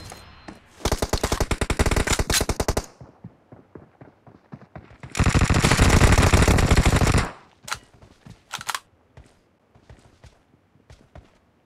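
Rapid automatic gunfire in a team deathmatch video game, two long loud bursts separated by a pause, followed by a few scattered single shots.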